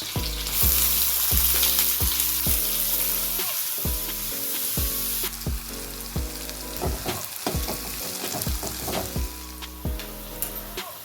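Chopped onions fry in hot oil with cumin, cardamom, cloves, cinnamon and green chillies, a continuous crackling sizzle broken by regular scraping knocks of a spoon stirring the pan.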